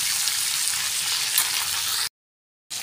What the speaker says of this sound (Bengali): তো আমরা হালকা করে ভেজে নিই